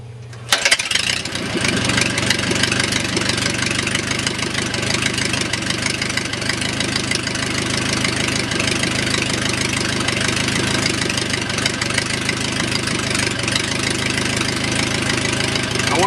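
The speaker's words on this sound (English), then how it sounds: "We'll turn the mag back on and we'll go ahead and restart the engine." A Smoot 4A084 aircraft engine fires up after its magneto is switched back on, then settles into a loud, steady, close idle with a continuous rhythmic knocking drone and no talk over it.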